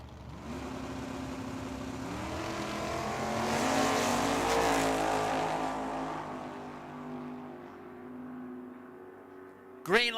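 Fuel altered drag cars, including an El Camino, blast down the strip at Tucson Dragway, their engines rising in a loud, sweeping roar that peaks mid-run and then recedes, closing with a sharp burst of noise.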